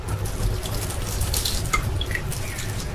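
Water is poured into dough for Sicilian sfincione, giving soft trickling and dripping sounds over a quiet kitchen background.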